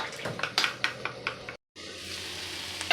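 Turmeric and homemade garam masala are whisked or stirred in a bowl for gobi mutter sabji, giving a run of quick scraping clinks with a brief silent gap partway through and a soft steady hiss afterward.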